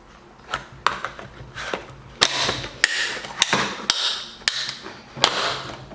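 Sharp plastic clicks and snaps as a screwdriver pries apart the back and front sides of a dust-collection blast gate, about ten distinct cracks over a few seconds, close and fairly loud.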